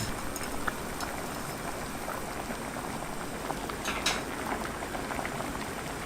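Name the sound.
water boiling for cooking pasta noodles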